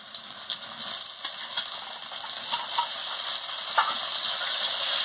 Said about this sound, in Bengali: দিয়ে ভালো করে মশলার সঙ্গে কষিয়ে নিচ্ছি।